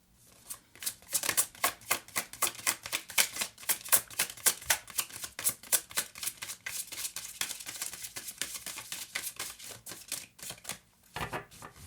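Cards are shuffled repeatedly, a rapid run of crisp riffling clicks in quick bursts, close up and fairly quiet.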